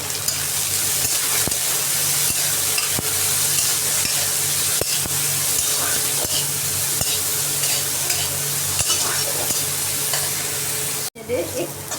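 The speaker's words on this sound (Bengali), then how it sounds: "তো করলাগুলো দিয়ে দিলাম, দিয়ে এটাকেও একটু অল্প ভাজা ভাজা করবো।" Bitter gourd pieces fry loudly in an oiled pan, a dense continuous sizzle with stirring scrapes. Near the end it briefly cuts out and then comes back.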